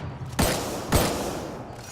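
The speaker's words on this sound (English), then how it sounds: "And I shoot into the ground." Two loud weapon blasts fired into the ground in Mass Effect Andromeda, each a sharp booming burst with a rumbling decay, spaced about half a second apart over a low background hum.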